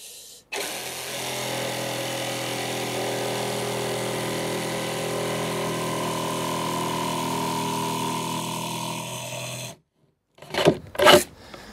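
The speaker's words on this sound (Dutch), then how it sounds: "Dan gaat de zaag recht naar beneden." An HBM 20-volt cordless jigsaw cuts straight down through a workpiece with a loud, steady rasping buzz for about nine seconds, then stops, followed by two short bursts of the blade running.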